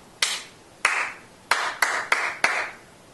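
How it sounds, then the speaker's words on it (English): Six sharp hand claps in an uneven rhythmic pattern, each a crisp close-up smack with a short decay, performed alone with no talking in a music demonstration for a brass-family rhythm card. "Here's the rhythm that I'm going to clap."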